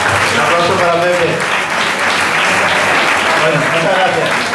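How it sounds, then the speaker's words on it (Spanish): Loud applause fills a restaurant dining room at a historic vehicle club dinner, a thick continuous wash of clapping with voices shouting and cheering through it. "Un aplauso para Pepe."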